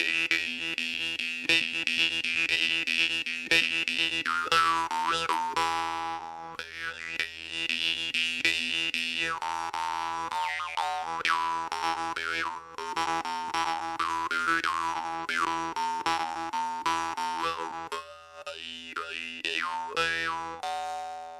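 An Iverson munnharpe jaw harp is played in a steady plucked rhythm, its bright twanging drone shifting in overtones with each stroke, close and clear with no talking.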